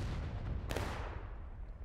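Musket fire in the Civil War video game War of Rights, a steady rumble of distant battle with one sharper crack of a shot standing out, no voices.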